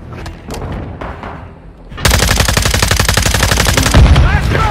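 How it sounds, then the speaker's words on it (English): Rapid automatic gunfire in a first-person shooter video game, a dense, loud burst of fire that starts suddenly after quieter game sounds and continues steadily to the end. "Man, I'm squeezing the fucking trigger"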